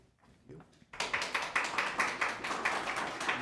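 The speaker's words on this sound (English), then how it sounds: "Clapping, please." An audience at a special city council meeting breaks into clapping after a short, quiet pause. The applause is dense and fairly loud, with a pulsing, uneven rhythm, and continues steadily to the end.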